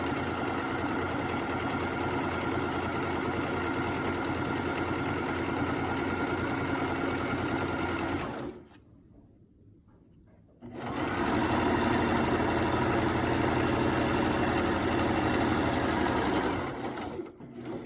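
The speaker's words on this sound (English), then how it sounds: "and continue sewing" Sewing machine stitching a shirt collar, a steady loud mechanical whir that runs continuously, stops for about two seconds while the fabric is turned at a corner, then resumes.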